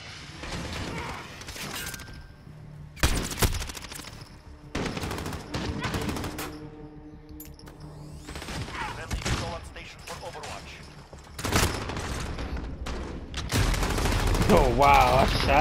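Repeated bursts of game gunfire from Call of Duty: Modern Warfare, including shotgun, MP5 and M4 shots, crack out loud and close in several clusters across the stretch, with a player talking between and over them.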